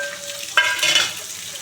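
Cumin seeds fry in hot oil as the tempering for a fish curry, giving a close, steady sizzle with a brief stirring scrape partway through.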